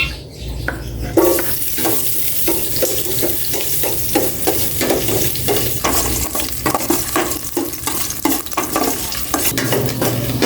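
Ginger pieces hit smoking-hot cooking oil, giving a loud continuous sizzle and fry with repeated stirring scrapes and clinks of a utensil against the pan throughout.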